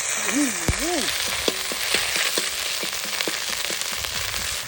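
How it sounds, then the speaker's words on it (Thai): Red curry paste sizzles and fries in hot oil in a wok for a spicy Thai eel stir-fry, with steady crackling hiss throughout and a few brief clinks of stirring, while a person speaks briefly. "ขั้นตอนแรกใส่น้ำมันลงไปนะฮะ จากนั้นใส่พริกแกง"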